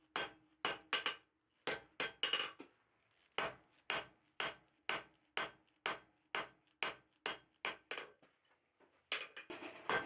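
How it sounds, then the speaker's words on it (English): A hammer strikes a steel tong blank made from 1/2-inch square bar while cross peening, giving sharp, ringing metallic blows in a steady rhythm with short pauses, close and clear with no talk. "I'm using the flat of the hammer to widen it out a little bit so I have a little better target."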